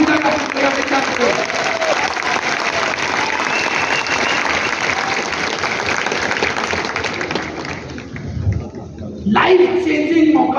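A crowd claps at a company event, sustained loud applause filling the room for most of the clip, mixed with crowd noise and a voice, before fading and giving way to speech.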